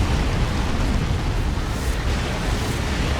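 In the Dawn of War 2 video game, a Land Raider tank is destroyed, its explosion a dense, sustained roar that fills the whole stretch at moderate loudness with no pauses.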